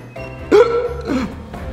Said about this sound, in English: I have the hiccups now.